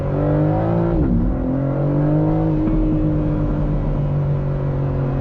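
2025 BMW M4 Competition Convertible facelift engine revving and accelerating, a loud steady exhaust drone heard from inside, with a brief dip and shift before pulling again.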